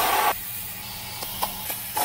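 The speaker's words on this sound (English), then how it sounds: "Nothing comes off. Let's spray it again." Aerosol spray cleaner blasted into bolt holes on a BMW E36 during a stud and angle kit install, a short loud hiss at the start, then quiet shop air broken by a few faint clicks.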